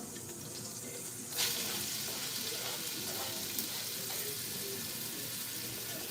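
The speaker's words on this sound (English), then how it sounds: "onions are in on the fond" Chopped onions go into a pan with browned meat residue and sizzle steadily at moderate volume, the hiss swelling after a soft clatter early on and then holding evenly, heard close with no clear talk.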